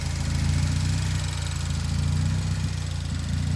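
A DF Goblin kit car engine idles just after ignition, a steady close low throbbing rumble with an even pulsing rhythm and no talk over it.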